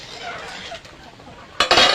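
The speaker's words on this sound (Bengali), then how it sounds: "তরকারিটা একটু নাড়িয়ে দেব।" A taro and fish curry is stirred in a pan with a utensil: faint scraping through most of the moment, then a sudden loud burst of clinking and scraping at the end.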